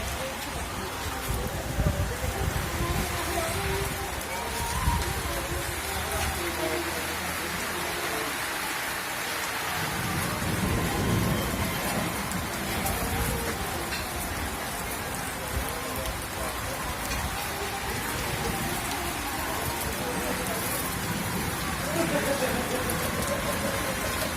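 Heavy rain pours steadily, a dense broadband wash with drops drumming on surfaces, continuous and loud throughout with no voices.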